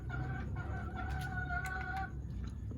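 Hens clucking in a backyard flock, with steady overlapping calls and a few sharper squawks near and moderately loud over a constant background of farmyard noise.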